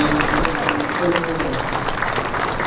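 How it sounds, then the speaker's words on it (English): An audience at an electric cooperative's 75th annual meeting claps steadily, a dense, even patter of applause from a large room, with a voice faintly heard beneath it. "So give her a round of applause"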